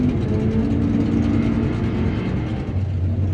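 A deep, continuous engine rumble comes from a 1970 Chevelle at a drag strip. It is loud and steady, with a low throbbing tone and no voices over it.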